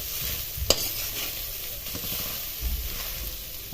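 Grated coconut stirred in ghee in a pan, giving a soft continuous sizzle with scraping strokes of a spoon, one sharp clink early on and a low thump near the end.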